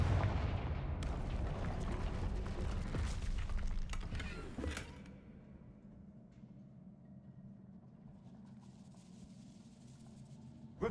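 Confringo fire spells from the Hogwarts Legacy video game burst out in rapid, loud booming blasts for the first few seconds, then settle into a quieter rumbling ambience with faint crackling.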